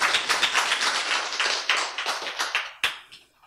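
A church audience bursts into applause, a dense flurry of close hand claps that rises, carries on for a few seconds, then tapers off to a few last claps.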